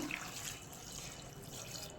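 A steady stream of water pouring and splashing into a metal pressure cooker holding chickpeas and salt, close and continuous for about two seconds.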